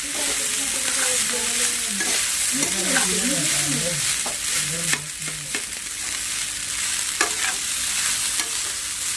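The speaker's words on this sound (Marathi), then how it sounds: "चांगला तेलात परतून घ्यायचा भात शिरपर्यंत हलवून यायचं" Rice being sautéed in oil with onion, cumin and mustard seeds, a steady close sizzle running throughout with scraping stirs of a spoon in the pan and a few sharp knocks, no voices.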